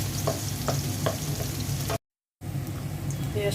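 Onions and garlic fry in oil in a pan with a steady, hissing sizzle and a few soft stirring scrapes, cut by a short dead-silent gap before the frying resumes.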